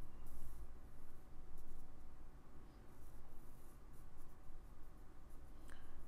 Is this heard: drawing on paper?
yes